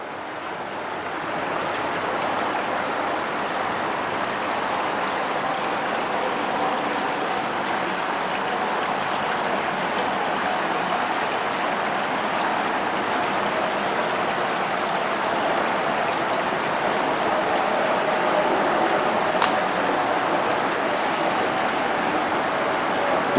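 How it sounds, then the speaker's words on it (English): A low creek beneath an old railroad trestle bridge on a heritage trail flows with a steady, broad rushing wash of water, constant and fairly loud, with no voices. "And these cross over this creek."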